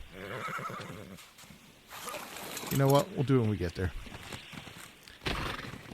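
A big horse whinnies in the video game Ark Survival Ascended, a loud, close neigh of about a second, with hoofbeats and game sounds around it and someone talking over the start.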